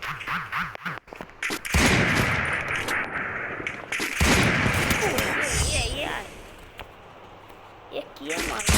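Rapid bursts of gunfire from a double MAT gun in a shooting video game, sharp repeated cracks in clusters under a voice talking over them.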